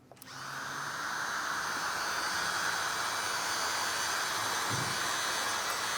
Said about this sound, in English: just grab your microfiber towel and with the heat gun and seal all the edges around.